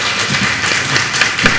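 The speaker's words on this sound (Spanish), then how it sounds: "Un aplauso para el doctor." An audience claps for a doctor at a medical lecture on ultrasound in pregnancy, with dense, steady hand claps at close range and a few louder individual claps.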